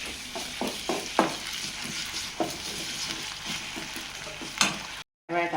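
Prawn masala with ginger paste sizzles steadily in a pan while a spoon stirs and scrapes through it in several sharp clinks, close and fairly loud, then cuts out briefly near the end.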